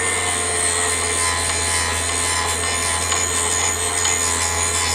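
A Vevor drill sharpener grinds a drill bit at a very shallow angle, giving a continuous close-up abrasive rasping over a steady motor hum, loud and unbroken with no voices.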